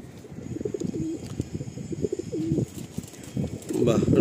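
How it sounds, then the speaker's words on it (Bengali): Male pigeons of the Madrasi breed coo in a loft in Kolkata, low rolling calls repeating through the clip, fairly close and mixed with other bird sounds and shuffling. "আচ্ছা, এটা একটা নর পায়রা দেখুন।"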